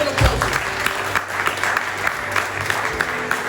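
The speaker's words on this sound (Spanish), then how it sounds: "Eso es fuerte el aplauso." Church congregation clapping during a sermon, a lively scattered burst of hands with a few voices mixed in, fairly close and holding steady before thinning slightly toward the end.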